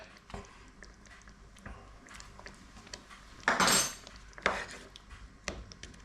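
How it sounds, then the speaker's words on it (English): Pangasius basa fillets are laid into a pan of Kerala-style fish curry, giving soft wet clinks and a brief metallic scrape of utensil against pan, close and fairly quiet, with no talk. "I'm just going to lay these Pangasius Basa fillets on the top there."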